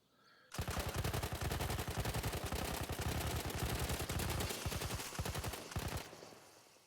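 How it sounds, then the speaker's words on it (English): Battlefield gunfire in sustained, evenly spaced rapid bursts, close and loud, running for about five seconds before stopping abruptly, with no talk. "To the right is controlled fully automatic fire, and to the left is controlled tap fire with 4 to 5 bullet bursts"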